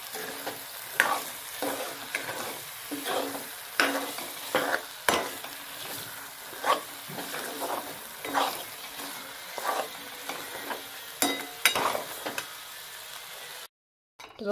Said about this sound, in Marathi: आता आपल्याला ह्याच्यात घालायचं आहे वांग्याचं भरी आणि आपल्याला हे पूर्ण मस्त ह्याच्यात परतून घ्यायचं आहे गॅस कमीच ठेवायचा आहे